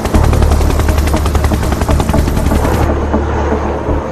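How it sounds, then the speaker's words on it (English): A Sikorsky Seahawk naval helicopter operating from the Australian destroyer HMAS Toowoomba gives a loud, close, continuous rotor throb with rapid rhythmic chopping, fading slightly near the end, with no talk. "There's also the Seahawk helicopter,"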